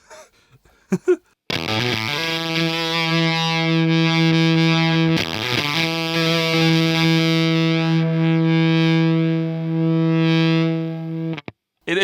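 A sustained electric guitar chord through a Cuvave fuzz pedal rings out twice, thick and buzzy with a gritty edge, the second strum held for several seconds before cutting off.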